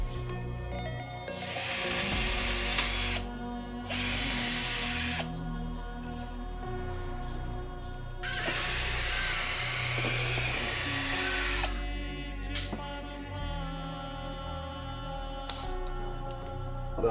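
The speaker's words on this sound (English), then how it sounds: "Now we're drilling the board." Someone drills into a board with a power drill, working on a 1996 Toyota Supra Mk4. There are several loud whining bursts of a few seconds each, separated by pauses, over a steady background hum.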